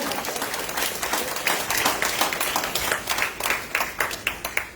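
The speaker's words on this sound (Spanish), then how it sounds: "Denle un aplauso grande al Señor en esta mañana." A church congregation claps during a morning service, starting as a dense wash of applause and settling into a rhythmic, fairly close beat toward the end.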